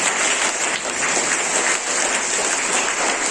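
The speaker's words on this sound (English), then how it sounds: "you just give the clap, big clap for this man" Students at a Class IV school morning assembly applaud a classmate's poem performance, a steady dense round of clapping lasting throughout at fairly loud, even level with no talk.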